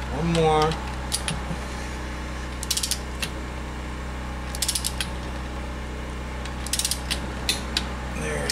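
Ratchet clicking in short bursts while bolts on a Honda Grom motor are tightened toward torque spec during an engine rebuild, several separate quick ratchet runs over a steady low hum, with a voice briefly at the start.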